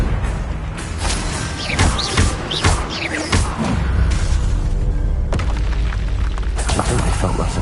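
A Confringo explosion spell goes off in the Hogwarts Legacy video game, with heavy booming blasts and crackling impacts layered over a dense, continuous wash of game effects for several seconds.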